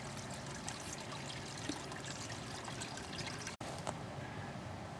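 Water poured over strawberry plants growing in a gutter, a steady trickling stream running for several seconds at moderate level with no talk.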